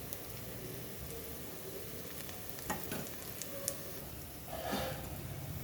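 Paneer balls fry in a pan with oil, giving a steady soft sizzle and crackle throughout, with a few brief louder pops and stirring scrapes near the end and no talking.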